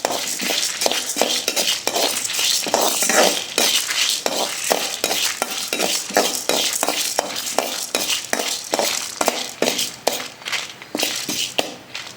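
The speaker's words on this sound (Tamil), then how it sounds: "உளுந்துலாம் நல்லா வறுபட்டு போச்சு." Urad dal roasting in a pan for curry leaf rice, giving a steady close run of dry scraping and clinking stir strokes against the metal, repeated through the whole stretch with no talking.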